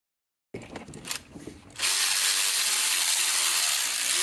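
A power ratchet or drill spins out oil pan bolts underneath a Chevrolet Cruze, with a few short clicking bursts at first, then a loud, steady, continuous whir running to the end, close up and without talk.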